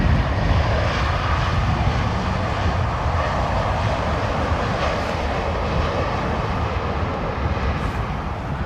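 An airliner comes in for a crosswind landing at London Heathrow Airport in wind and rain, its engines a loud, continuous broadband roar that holds steady throughout.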